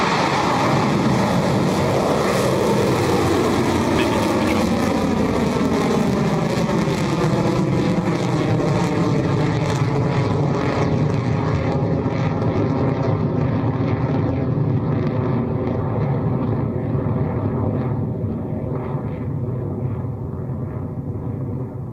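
A Rocket Lab rocket lifts off with a broad, continuous rumbling roar that slowly recedes and fades as the vehicle climbs away into the distance.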